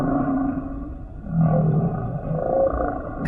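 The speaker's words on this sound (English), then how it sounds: "The whales in different oceans have different songs." Humpback whale song in the deep ocean: low moaning and rising tonal calls that swell and fade over a few seconds, fairly loud and continuous with no talking.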